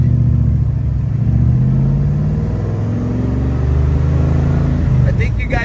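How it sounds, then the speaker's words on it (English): A car with a 289 V8 engine and loud exhaust accelerates through the gears, its deep, throaty rumble close and loud, steadily climbing and holding for several seconds. "it just gives you that American muscle car sound that we all love"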